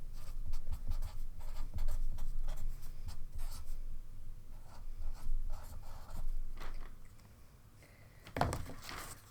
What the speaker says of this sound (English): So on mine, I'm just going to write Happy Mother's Day.